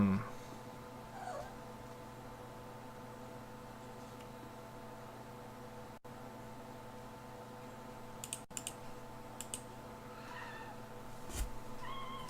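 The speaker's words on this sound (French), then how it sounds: "Si vous entendez miauler, c'est mon chat." A house cat gives a couple of faint, distant meows over a steady electrical hum in a quiet room, with occasional soft clicks nearby.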